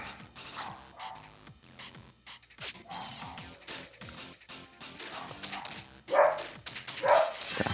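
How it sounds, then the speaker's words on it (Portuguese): Street dogs outside a house barking and yipping in repeated irregular bursts at moderate distance, with louder barks toward the end and no talk. "É os cachorros de rua ficam lá em frente"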